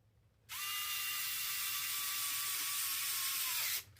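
A screw backs out of the plastic inner fender of an FMS FCX10 Toyota LC80 scale crawler under a small electric screwdriver, one steady, close whirring buzz of about three seconds that starts and stops abruptly.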